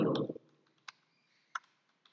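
Computer mouse clicks ring out as three or four sharp, isolated clicks spaced apart while editing headers and footers in MS Word, following a brief burst of talk at the start.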